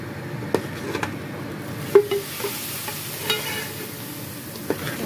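Hot oil sizzles steadily close up as a desi ghee tempering with whole cumin is added to chana dal, punctuated by a few sharp clinks and stirring sounds, with no voices.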